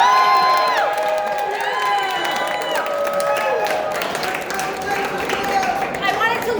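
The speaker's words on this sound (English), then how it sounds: "let's give a warm round of applause and make a lot of noise for our champion Senator Jessica" A crowd at a wrongful convictions rally in Albany cheers, whistles and applauds loudly for a senator, with high shouts and whoops riding over continuous clapping throughout.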